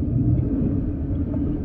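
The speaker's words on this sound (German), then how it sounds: "und werde gleich etwas abbremsen." A Toyota Prius hybrid slows with regenerative braking, producing a soft, continuous low interior rumble that stays even throughout.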